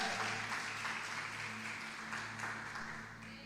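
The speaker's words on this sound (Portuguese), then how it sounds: "Palmas para o nosso Rei." A church congregation claps together in a continuous wash of applause that slowly fades, with a low steady hum underneath and no voices over it.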